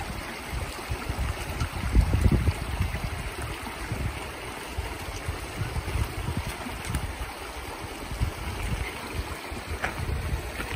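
Steady rush of water flowing over rocks along Mission Creek, with scuffing footsteps and rock scrambling up the creek bed, close and continuous with wind noise, no talking.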